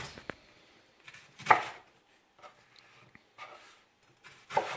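A kitchen knife cuts a vegetable into 1-inch thick strips on a board, giving a few quiet, irregular chopping knocks separated by short pauses.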